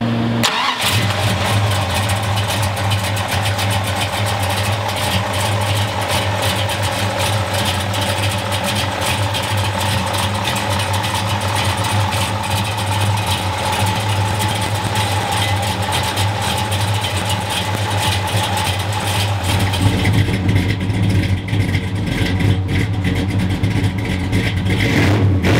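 1969 Plymouth Road Runner with a 440 V8 cranks and fires, then settles into a loud, rumbling idle with occasional revs, heard close and alone.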